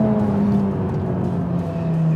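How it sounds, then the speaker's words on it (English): A Ferrari Roma turbocharged V8 revving after a downshift, a steady droning engine note that rises and falls slightly, heard from inside the car with no voices. "The noise from this engine is,"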